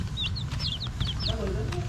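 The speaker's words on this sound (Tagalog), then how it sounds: "Ang liliksi na yung mga manok na yan, oh." Young chickens kept as backyard livestock give quick high chirps and soft clucks, several calls in a busy run, close by over a low background hum.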